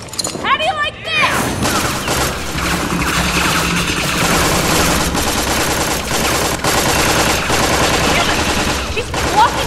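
Gunfire in combat from the video game Tales from the Borderlands: dense, rapid bursts of shots roll almost continuously for about nine seconds over a busy mix of game sound, with voices partly audible underneath.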